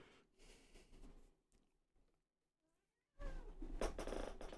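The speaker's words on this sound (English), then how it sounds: "I'm being shouted at by the cat." A pet cat meowing indoors: short vocal cries at the start, a near-silent pause, then a louder, closer burst of meows and snorting breaths near the end.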